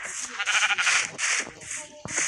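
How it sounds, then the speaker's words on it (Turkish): Minecraft sheep bleat repeatedly in quick succession, loud and close, a nasal wavering cry with short gaps and a sharp click near the end. "Koyunlar saldırıyor."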